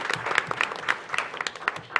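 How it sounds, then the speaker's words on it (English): Brief, sparse clapping from a small meeting audience at a city commission session, a handful of hands patting unevenly at moderate distance for a couple of seconds. "and why don't we give them a round of applause?"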